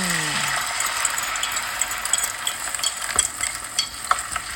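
Beaten egg poured into hot coconut oil frying in a pan, a loud, steady crackling sizzle with a few sharper pops and stirring scrapes, heard alone with no talk.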